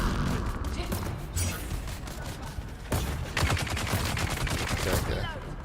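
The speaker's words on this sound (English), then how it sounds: "The bad guy shooting, or is that you?" Enemy gunfire in the video game Dune Awakening, rapid bursts of shots running almost continuously and loudest in the second half, with a voice talking over it.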